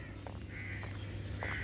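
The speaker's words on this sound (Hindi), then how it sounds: "परिंदों की आवाज़ें आप सुन रहे होंगे" Birds call in the early morning outdoors, with a few short caw-like cries standing out over a steady low hum of background noise, fairly faint and distant.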